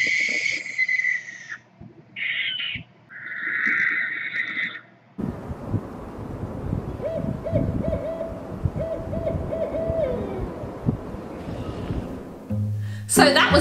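Owls calling: a series of clear hoots comes first, then a long, harsh, raspy croaking from the female owl answers, loud and close, with a brief louder burst at the very end.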